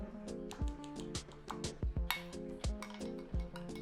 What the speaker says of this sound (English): Just give it a stir. Go ahead and stir it up.